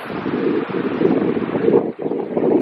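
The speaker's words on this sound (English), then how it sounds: "Got a chilly wind again, but it's beautiful all the same." Chilly wind blowing outdoors on a beach buffets the microphone as a steady, loud, close rushing roar with a brief dip near the end, no voices.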